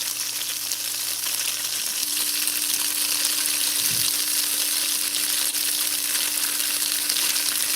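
Food sizzling steadily in avocado oil in a pan, a constant bright frying crackle throughout with a brief low knock partway in, no talking.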